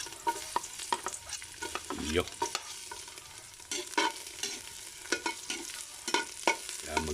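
Garlic fries in a pan for Filipino mudfish soup, a steady sizzle broken by repeated spatula scrapes and clinks at an uneven rhythm; a voice briefly speaks at the start.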